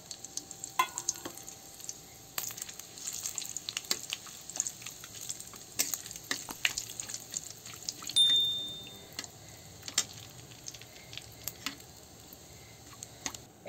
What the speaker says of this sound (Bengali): এই যে দিয়ে দেবো তেজপাতা আর দিয়ে দেবো এই যে গোটা জিরা।